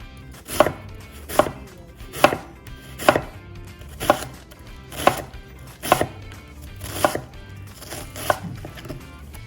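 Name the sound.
knife cutting jalapeños on a cutting board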